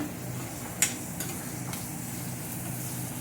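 Potato and tomato bhaji sizzling steadily in a pan on a gas stove, with a sharp metallic clink of the stirring spoon against the pan and a couple of softer scrapes, all close and without talk.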